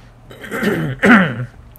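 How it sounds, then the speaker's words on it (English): Someone clears their throat twice in quick succession, close and rough, with no talking around it. "I cannot clear my throat today."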